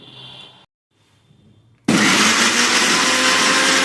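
A kitchen blender grinds onion, ginger and garlic into a paste, starting with a brief whir and a pause, then surging into a loud, continuous close roar that runs to the end.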